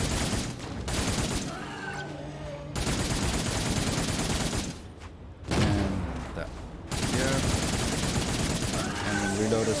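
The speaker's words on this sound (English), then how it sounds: "We'll do the minigun for that." A minigun fires in the sci-fi video game Cygnus Enterprises, dense sustained bursts of rapid gunfire broken by short pauses, loud and close, with a player talking over it.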